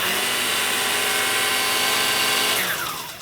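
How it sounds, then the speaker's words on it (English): A Stihl FCA 80 battery edger running on its low power setting makes a loud, steady electric motor whine close by, then winds down at the end as the trigger is released. "that's the low power setting"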